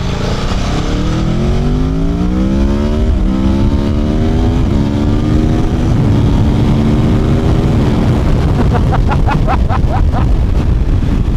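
An Aprilia Tuono V4 motorcycle pulls onto a highway, its engine rising through several gear changes with repeated climbing revs and loud wind rush from onboard, ending in a sharp rev burst.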